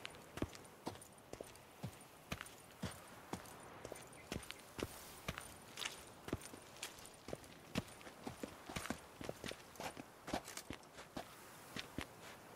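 Horse hooves clip-clop at a steady walking pace in The Witcher 3: Blood and Wine, crisp repeated hoof strikes over a quiet background.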